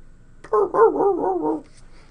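A man imitates a dog with his voice, giving a run of gruff, rhythmic barks for about a second in a quiet room.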